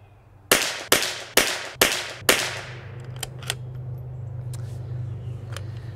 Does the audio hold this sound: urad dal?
no